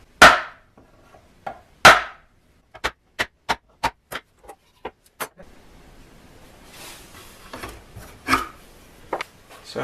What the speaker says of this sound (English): So now I can punch the center holes for all those holes.